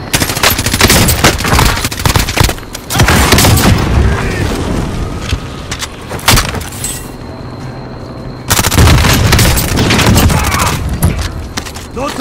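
Video game combat: loud, dense bursts of rapid gunfire and heavy booming explosions, close and nearly continuous with a brief quieter lull in the middle.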